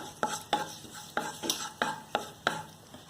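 Curry leaves dropped into hot cooking oil in a pan, stirred and sautéed for a short while, giving a sizzling fry broken by about seven sharp spatula-on-pan scrapes at an uneven rhythm, close and alone.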